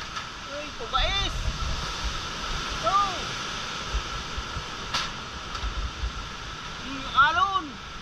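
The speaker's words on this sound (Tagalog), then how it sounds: "Yung alon sa dagat malalaki na." Large sea waves roar in a steady broadband wash during Typhoon Uwan under signal number 5 in the Philippines, while voices shout intermittently over the surf.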